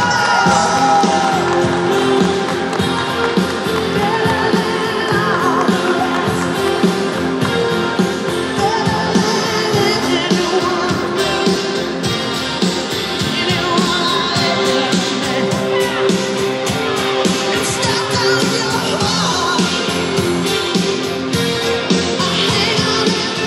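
A crowd cheers and whoops at the closing ceremony of a youth football tournament for players born in 2009. The noise is loud and continuous and fills the whole stretch without a break.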